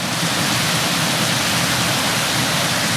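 A waterfall on a sunny outing in wet countryside gives a steady, dense roar of falling water, loud and close, with no break and no voices.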